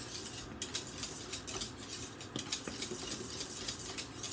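Chocolate cream pie filling stirred in a pot on the stove, a steady close scraping and clinking of a utensil against the metal with a faint background hiss, no talking.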